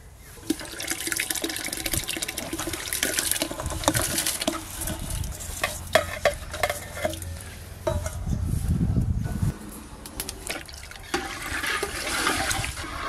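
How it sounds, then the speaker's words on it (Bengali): Soaked rice and lentils are poured into a pot of hot water for khichuri, giving a steady splashing, pattering rush of water and grains that swells and fades over several seconds, close and fairly loud with no talk. "ভিজিয়ে রাখা চাল আর ডাল দিয়ে দেব।"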